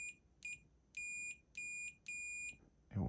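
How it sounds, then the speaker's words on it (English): A multimeter set to audible continuity beeps as its probes touch the tone arm pins of a Realistic LAB-440 turntable: five sharp, even electronic beeps, each about half a second long, followed by a brief clunk of handling. "So I'm going to set my meter to audible continuity"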